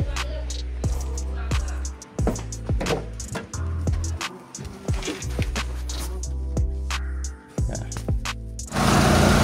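A Mitsubishi Lancer with a misfiring, weak engine cranks with sharp clicks and knocks, then settles into a loud, steady idle close by, with repeated mechanical ticks over the low rumble.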